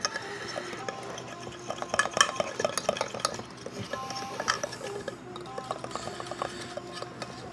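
Peach cobbler batter being stirred in a bowl, a run of scraping and clinking utensil strokes at close range, irregular and moderately loud, with no voices.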